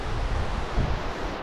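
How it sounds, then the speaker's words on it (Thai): River Wear flowing past the ruins of Finchale Priory in England, a steady broadband rush of moving water that stays even and continuous throughout, with no voices. "ฟังเสียงแม่น้ำน้ำไหล"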